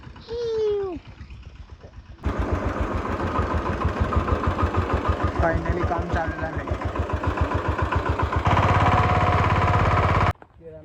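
A tractor engine chugs with a rapid, steady rhythm in a village field, starting abruptly after a short quiet stretch and running loudly to the end, with someone talking briefly and a bird call near the start.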